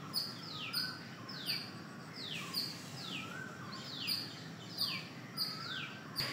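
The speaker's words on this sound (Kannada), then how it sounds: "ಬೋಟ್ ಮೇಲೆ ಒಂದು ಪಕ್ಷಿ ಕುಂತಿದೆ" A bird perched on a boat at Yediyur Lake in Bengaluru gives repeated sharp, high chirps in a loose rhythm over a soft outdoor hum, moderately close and without talk.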